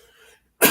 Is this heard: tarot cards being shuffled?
no